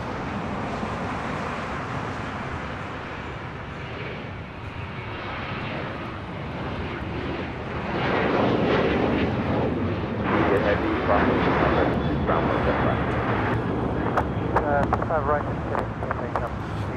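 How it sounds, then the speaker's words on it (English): American Airlines Boeing 737-800 taking off from LAX bound for Indianapolis, a broad jet roar that swells louder midway and stays strong, with wind buffeting the microphone and a voice talking over it. "That is American Airlines 2674 taking off to Indianapolis on a 737-800"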